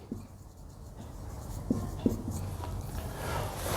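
Pen writing a journal entry narration on paper for an accounting exercise, quiet scratchy strokes with a few soft taps, close and faint against low room noise, no speech.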